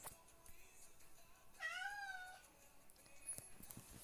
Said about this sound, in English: If you could just hear Cat Meow